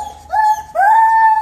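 A dog, the mother of a recently weaned litter, lets out two high whining howls close to the mic, the first short and the second longer and held steady, with no talking.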